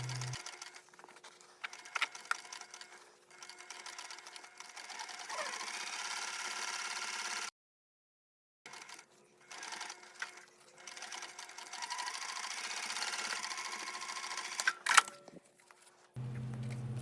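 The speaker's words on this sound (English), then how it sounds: "Sew the seam again, this time using the standard 3/8 inch seam allowance." A sewing machine runs steady stitching along a seam of a crossbody bag, with long continuous passes broken by a short pause near the middle and a brief stop near the end; no talk.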